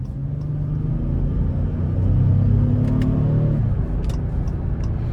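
A 2015 Acura MDX Tech Package in sport mode drives with a steady low engine rumble that swells briefly as it accelerates, heard from inside the cabin with faint ticks and no talking.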